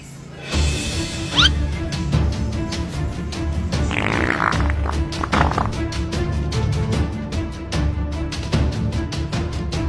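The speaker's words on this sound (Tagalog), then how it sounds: "Utot na pinasok sa rep" A loud fart sound effect, a long buzzy and rattling blast made of rapid pulses that sputters on and off for several seconds.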